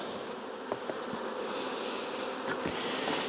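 Honey bees buzzing as a steady, moderately close drone during a virgin queen introduction into a mating nuc, with a few brief knocks and rustles over the hum.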